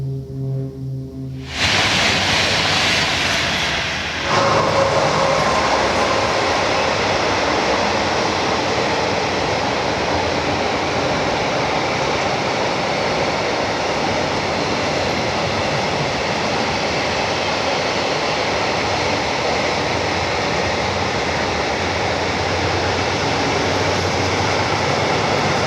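A train passes close by as a loud, sustained roar of rail noise that begins with a horn-like blast and continues steadily, broad and rushing, with no voices.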